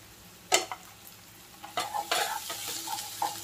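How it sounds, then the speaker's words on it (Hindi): Garlic sizzling in a hot pan while ginger paste is added and stirred in, with a sharp scrape near the start and then a steady crackling fry punctuated by stirring strokes, close up and moderately loud. "तो लहसुन हमारा फ्राई हो चुका है, इस टाइम मैं डाल दूंगी आधा इंच अदरक का पेस्ट"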